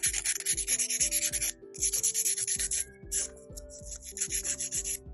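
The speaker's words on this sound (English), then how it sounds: "I don't want to go too much of the filing and lose the apex" Builder gel on a fingernail being filed with rapid, rhythmic back-and-forth strokes in close bursts, loud and scratchy, broken by brief pauses, with a steady low motor hum underneath.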